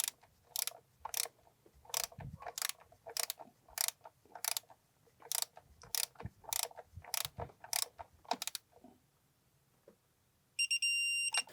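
Close ratchet wrench clicks tighten valve cover bolts on a BMW M52/M54 straight-six, sharp regular strokes in rapid succession for several seconds before stopping, followed by a short electronic beeping tone.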